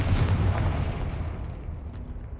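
A deep booming blast from the Confringo spell in Hogwarts Legacy, loud and rumbling right at the start and then fading into a low lingering roar, with no voices.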